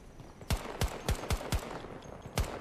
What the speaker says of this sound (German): Warum schießt du?